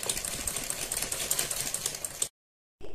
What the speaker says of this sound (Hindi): गले के ऊपर इस तरह से सिलाई लगा देते हैं चारों तरफ को